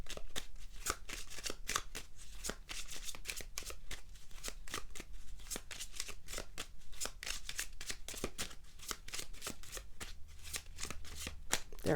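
Language of Flowers cards are shuffled steadily and close by, a continuous riffling patter with rapid crisp card snaps throughout, with no voice over it.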